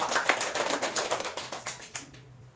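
Schoolchildren in a fifth-grade classroom clap their hands together, a dense burst of overlapping claps that gradually thins out and fades within a few seconds.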